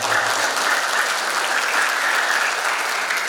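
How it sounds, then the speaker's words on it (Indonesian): Loud, dense applause from a crowd at a speech event for Darul Fatah school, steady sustained clapping filling the whole stretch without a pause. "Tepuk tangan buat Darul Fatah."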